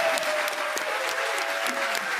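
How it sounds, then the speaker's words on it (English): An audience gives a final round of applause for candidates at a political party debate, a steady, moderately loud clatter of many hands clapping without pause. "if we can have one more final applause for our candidates."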